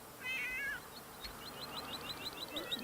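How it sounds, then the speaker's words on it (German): A cat in The Sims 3 video game meows in a short series of high calls while a radio plays, the mewing repeated and fairly clear over the background music. "Kein Wunder, dass die Katze da mitsingt."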